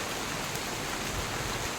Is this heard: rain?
yes